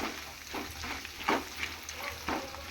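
Curry leaves crackle and sizzle in hot oil while being stirred for a spicy Uttar Karnataka churumuri snack, a steady close frying hiss broken by soft scraping pulses and no voices.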